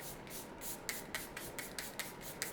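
Skin Mist Matte oil-control setting spray misted onto the face, a quiet run of about seven short, crisp spritzes in a steady rhythm, close to the face, with no talking.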